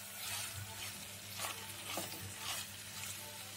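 Masala is sautéed in a pan for Madurai-style brinjal puli kuzhambu, giving a soft, steady sizzle broken by rhythmic stirring strokes about every half second. The sound is fairly quiet and close, and no one speaks.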